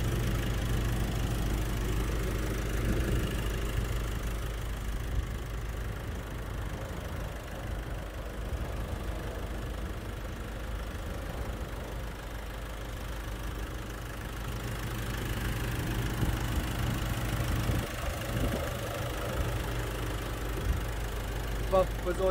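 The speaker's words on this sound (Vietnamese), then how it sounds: "Vâng, và đây là tiếng động cơ đang hoạt động đây." A 2015 Nissan Navara with a 2.5-litre diesel engine idles steadily at close range, a low continuous rumble with a faint knock that holds an even level throughout.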